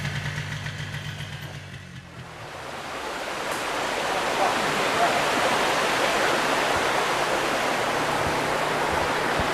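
Stream water pouring down into the intake of a small hydro system, a steady loud broadband rush that builds after a quieter, motor-like hum and then continues unbroken.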